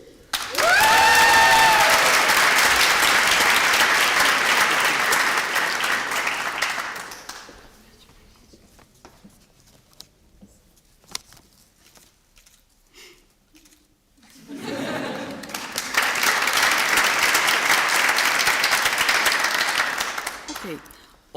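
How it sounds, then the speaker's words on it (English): Loud crowd applause at a master's graduation ceremony, with a bit of laughter, then a quiet pause with faint murmuring before a second full burst of clapping. "applauden voor Malin Roppel."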